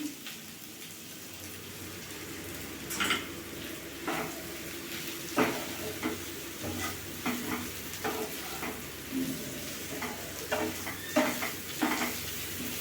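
Chhana and potatoes with spices stirred in a frying pan over raised heat, a steady soft sizzle under repeated scraping strokes of a spatula, close and moderately quiet.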